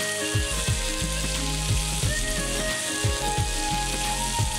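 Chopped tomato and turmeric sizzle and fry in a pan on a television cooking show, a steady loud hiss with bursts of stirring clatter, while background music plays throughout.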